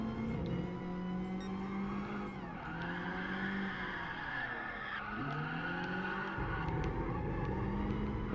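A Toyota AE86 drifting in Gran Turismo Sport, its engine droning steadily with pitch swooping up and down through shifts while tires squeal continuously, loud and close with no talking.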